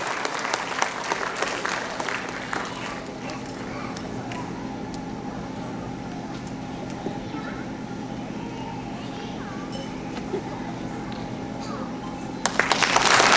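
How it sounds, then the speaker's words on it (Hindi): At an Ahmedabad tribute event, an audience applauds the city's Chief Fire Officer in a brisk burst that fades into a quieter murmur of crowd and room noise, then swells again near the end. "Mr. Amit Dongre के लिए एक बार जोरदार तालियां हो जाए everyone."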